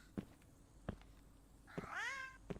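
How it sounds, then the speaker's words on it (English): A cat meows once inside a house in the Gears of War video game, a single wavering mew against quiet ambience, with sparse footsteps or thumps before and after it. "I definitely heard a kitty cat."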